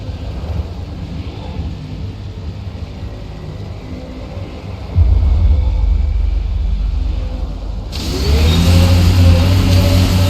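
A vehicle engine drives in the Mass Effect: Andromeda video game, a steady mid-range rumble that surges louder midway and again near the end as it accelerates, with no talking.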